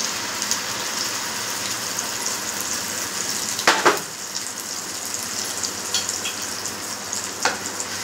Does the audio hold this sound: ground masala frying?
yes